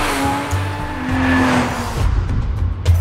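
A Hyundai Genesis Coupe drift car driven by Rhys Millen at Pikes Peak, its engine droning loudly with tire squeal and skidding as it passes close, the revs swelling and falling.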